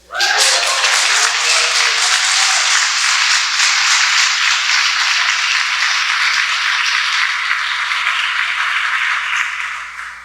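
A large audience applauds at a Concord 250 commemorative event, loud, dense clapping that sustains for about ten seconds before tapering off at the end, with a voice briefly heard at the start.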